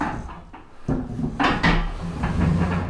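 A terrarium turned and slid across the glass top of a furniture cabinet, producing a close, rumbling scrape with a dull knock, then a longer grinding slide that goes on steadily to the end.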